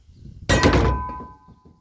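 A heavy hammer strikes a universal joint on a vehicle driveshaft once, a sharp loud metallic thunk with a ringing tail that fades over about a second.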